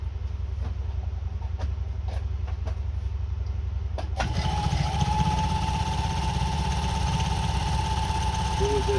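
A Pfaff 130 sewing machine idles with a low hum, then starts running at about the midpoint, giving a steady, close mechanical whir with no talking.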